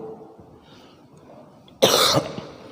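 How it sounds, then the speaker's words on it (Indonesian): A single sharp cough bursts out near the end, loud and close, after a stretch of quiet room noise. "Mohon maaf agak batuk-batuk."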